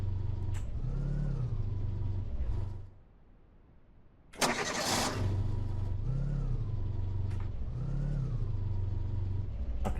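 A car engine in a ranch simulator game idles and revs in steady loud cycles, cuts out briefly, then restarts with a sharp burst and keeps running with rhythmic revving.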